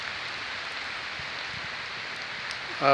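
Steady rain falling in the open, heard as a constant even hiss with no breaks, on the way to Bukit Samboja, a hill near the coast, with a brief louder sound at the very end.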